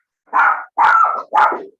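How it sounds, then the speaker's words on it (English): A pet dog barks three times in quick succession, loud and close, each bark a short rough burst with brief gaps between. "Sorry, my dog."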